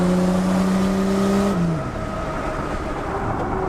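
A barn-find Buick Grand National turbo pulls hard, its engine note rising loud and close, then drops sharply as it shifts into second gear and carries on accelerating under a rough roar.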